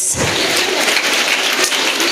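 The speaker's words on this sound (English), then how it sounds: "Clap your big hands." Children and guests clapping at a school Children's Day prize announcement, a loud, steady burst of many hands filling the room with no talking over it.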